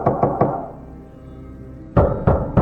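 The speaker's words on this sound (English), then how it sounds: "each time the girls were alone in their rooms, they would hear these knocking sounds." Knocking on a door or wall at night in a haunted-house account: two groups of three sharp knocks, near and fairly loud, separated by a short quiet gap, with no voices.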